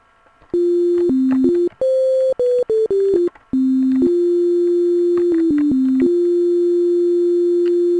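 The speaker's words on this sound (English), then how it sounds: "it's going to be a constant tone, and should just produce a sine wave" A pure electronic sine tone from a Sega Genesis FM synthesizer operator plays alone, stepping between pitches in a quick melodic run, then settling into a long steady held note.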